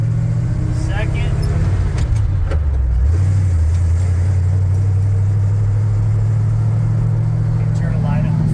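A 1964 Chevy engine drones loudly and revs, its pitch dropping and climbing as it shifts gears, with someone talking over the steady engine noise.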